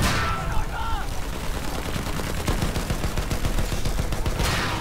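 Dense, continuous gunfire in Battlefield 1 from several weapons at once, with bursts and booming shots overlapping throughout. Loud and close, with a voice speaking underneath.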